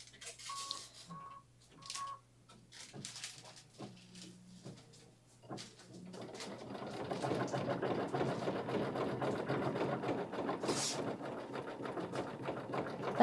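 Kimberbell embroidery machine stitching a flower design, starting quietly after a few soft clicks and thumps, then running as a steady, moderately loud whirring hum.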